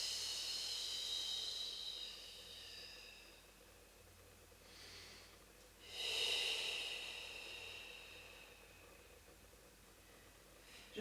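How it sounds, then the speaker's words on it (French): During a Pilates exercise, a slow breath is drawn in through the nose and let out again, giving soft, airy hisses with quiet gaps between them. "J'inspire par le nez et j'expire pour redescendre"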